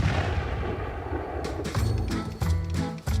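Several sharp, loud gunshots from a period firearm crack out in quick, uneven succession over a rumbling, noisy background, each bang followed by a short boom.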